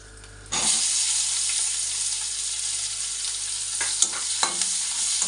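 Onions hit a hot wok and sizzle sharply, then keep up a loud, continuous frying hiss with a few stirring clinks near the end.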